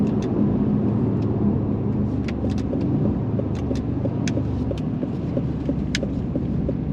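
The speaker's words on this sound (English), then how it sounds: "I'll turn the car around here." An Aston Martin Vantage F1 Edition rolls slowly through a turnaround on a small road, its engine giving a steady, close low rumble with a few faint clicks and ticks over the top.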